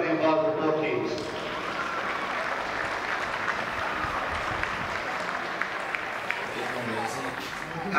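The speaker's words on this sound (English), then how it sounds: "could I just have a huge round of applause for everybody involved with both teams" A crowd claps for both teams after a Gaelic football final, Tullamore against Ferbane in the Offaly Junior B championship. The applause is a sustained, moderately distant patter that follows a brief opening voice.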